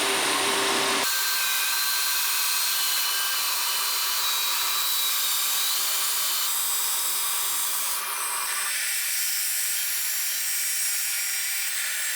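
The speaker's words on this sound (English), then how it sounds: "It's time to cut the slabs for the back and the soundboard." A power saw cuts through wood slabs for a guitar back and soundboard, a continuous loud buzzing whine that holds steady for several seconds and shifts tone partway through the cut.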